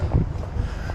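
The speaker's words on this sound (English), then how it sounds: "It's just the wind." Wind buffeting a boat on a canal lock flight, a steady low rumbling roar close to the microphone, alone with no talk.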